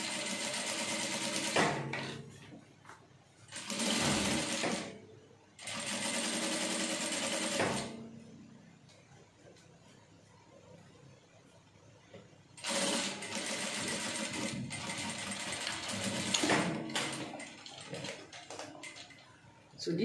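Bursts of a sewing machine stitching a hidden side seam pocket come in several runs of rapid, even needle chatter, separated by quieter pauses with soft handling sounds.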